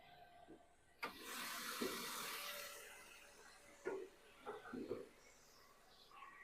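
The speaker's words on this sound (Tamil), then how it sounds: "இப்போ நம்ம இந்த வண்டியோட இன்ஜினை ஸ்டார்ட் பண்ணி காட்டுறோம்." A petrol 2003 Toyota Corolla engine cranks and catches, then settles into a steady idle while a few short bursts of speech break in over the hum.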